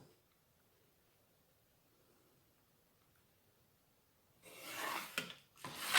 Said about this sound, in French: Et vous faites un grand trait comme ça.